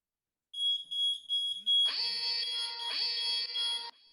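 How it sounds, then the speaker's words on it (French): Ajax wireless home security alarm siren set off by a motion detector indoors, starting with a row of short high beeps, then switching to a loud continuous piercing wail that pulses twice. "L'alarme retentit"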